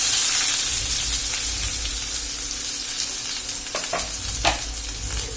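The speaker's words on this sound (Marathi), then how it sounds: "आता मी त्याच्यात कांदा टाकणार आहे" Chopped onion hits hot oil with tempered cumin and mustard seeds, giving a loud, steady sizzle close by, with a few sharp clicks of stirring near the end.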